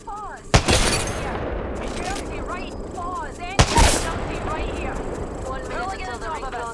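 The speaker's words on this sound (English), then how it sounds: "They're shooting at me." Two heavy gunshots crack out about three seconds apart in an Apex Legends match, each with a rolling boom, while voices chatter over the firefight.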